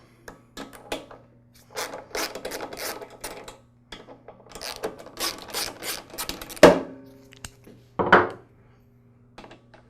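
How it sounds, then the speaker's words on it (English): Bolts on the air filter base of a Honda HRX217 lawn mower are loosened with a tool, producing close, rapid ratcheting clicks in several bursts, followed by two louder metallic clunks as parts come free. "Now we'll remove the air filter base. The base is secured with 2 bolts."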